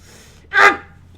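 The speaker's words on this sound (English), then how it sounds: "There was one hell of a big sneeze right there." One short, sharp sneeze burst from a person, close and loud, standing alone against a quiet background.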